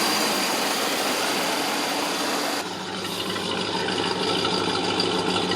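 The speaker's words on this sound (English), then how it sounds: "yep, there's the engine." A used GM vehicle's engine running with its exhaust, a steady close broadband roar that holds even throughout, shifting slightly in tone partway, no voices.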